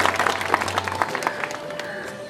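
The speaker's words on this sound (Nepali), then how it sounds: "सधैँ उहाँहरूप्रति सम्मान स्वरूप ताली बजाइदिन म सबैमा हार्दिक अनुरोध गर्दछु" Audience applause following a request to clap in honour of the guests at a speech in Nepal, a dense patter of hand claps that thins out toward the end, with a steady hum underneath.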